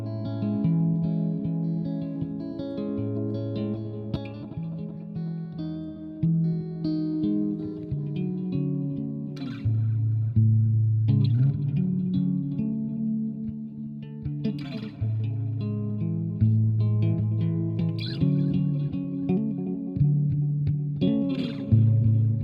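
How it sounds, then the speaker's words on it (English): Stock Logic Echo Stack preset processing a sustained, harmonically rich musical part, with dense repeating echoes and chorus-like smearing trailing each new note change, loud and continuous, with no talking. "this is just a stock Logic plugin or preset, which is Echo Stack."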